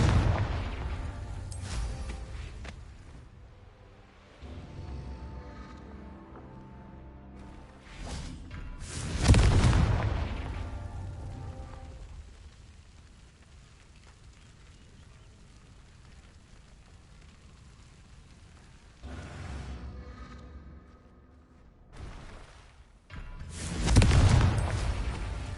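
Confringo explosive spell blasts from Hogwarts Legacy erupt in a few separate bursts, each a sharp boom with a fading rumble, set apart by quieter stretches of ambient game sound.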